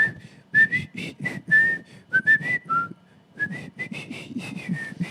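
Someone whistles the melody of a song, a clear, close, solo whistled tune of short rhythmic phrases and a few held notes with small pauses, no talking alongside.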